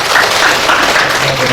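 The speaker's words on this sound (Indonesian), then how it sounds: "Kita sambut dengan tepuk tangan yang meriah" An audience at an umrah guidance session in Dumai welcomes the speaker with a dense, steady burst of applause that fills the room at even loudness throughout.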